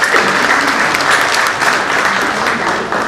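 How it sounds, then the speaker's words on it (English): Sustained, loud applause from a seminar audience on audit trail and NBFC topics, dense steady clapping filling the whole stretch without pause. "I request the audience to give a thunderous applause for the"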